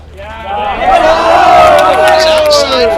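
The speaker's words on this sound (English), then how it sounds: "I can hear the Eagles in the dugout cheering on their teammate at the plate" Baseball players in the Eagles dugout shout and cheer on a teammate at the plate, a loud, close burst of overlapping voices that swells and holds.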